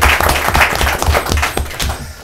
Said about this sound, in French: Alors, sans oublier Monsieur Dean Vizy, qu'on applaudit bien fort aussi.